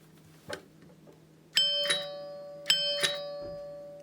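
A newly installed Bong Bing doorbell, fitted after deburring, rings two clear two-tone chimes, each a bright strike followed by a lower note with a lingering ring, close and in a quiet room.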